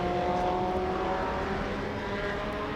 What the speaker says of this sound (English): That's the fastest car so far, the Lola T70.